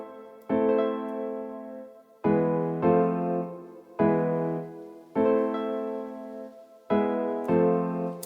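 An Afrobeat chord progression on a soft keyboard sound in a production beat, with six sustained chords struck at a slow, steady pace, each fading before the next, moderately quiet with no drums.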